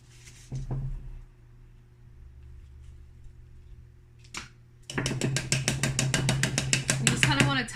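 A plant pot holding an aroid is tapped to settle soil around its roots, a quick run of loud, sharp, evenly spaced taps close by after a couple of isolated knocks and a quiet stretch.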